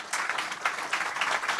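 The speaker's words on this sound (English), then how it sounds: "A round of applause, please, to our panel." An audience applauds a panel at an event on climate action and nature-based solutions, a steady broadband patter of many hands clapping, fairly close and continuous for a second and a half with no talk over it.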